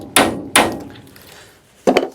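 Metric 17 socket hammered onto a rusted wheel nut of a 1964 Chevrolet pickup, three sharp metallic blows, two close together then a pause before the third, loud and near.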